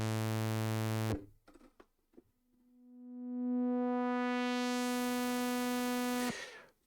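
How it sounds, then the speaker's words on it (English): A rich held synth tone cuts off, a few faint clicks follow, then a synthesizer riser swells slowly, its harmonics brightening and climbing to a loud sustained peak before stopping sharply; no voices. "a riser is a slow disclosure of amplitude over time or frequency over time"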